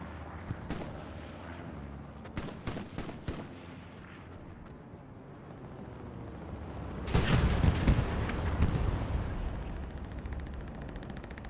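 Heavy artillery fire in the World War II shooter Hell Let Loose on the Utah map, with sharp booming shots in an early cluster and a louder sustained barrage later, distant rumbling between, no talk.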